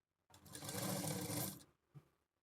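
A sewing machine stitches a blouse sleeve in a single close, steady run of about a second and a half, followed by a faint click and quiet.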